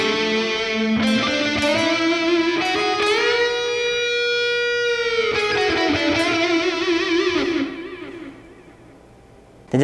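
A distorted electric guitar through an ML Sound Lab Amped Ark high-gain preset on the neck pickup plays a sustained, singing lead line with bends and vibrato, loud and saturated, then fades near the end.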